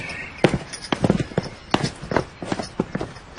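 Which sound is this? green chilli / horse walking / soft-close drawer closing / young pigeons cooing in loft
horse walking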